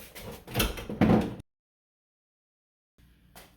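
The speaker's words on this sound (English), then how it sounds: "now the dishwasher can be pushed back into its place" A Frigidaire 18-inch dishwasher, model FFBD1831US0A, being shoved back into its kitchen cabinet: a close scraping, bumping slide lasting about a second, then silence and a faint knock.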